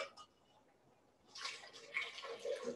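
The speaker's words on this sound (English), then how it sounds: "So I'm going to strain this into the blender, and so it will be frothy." Liquid pours through a strainer into a blender in a home kitchen, a soft splashing trickle that starts after a quiet moment and continues steadily to the end.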